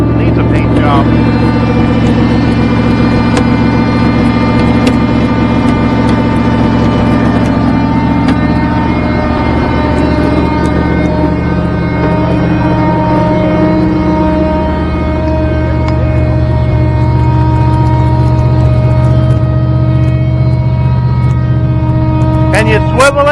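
An old boom truck engine that sat unstarted for years runs steadily at idle, a loud continuous low rumble with stable harmonics throughout, with some people talking nearby.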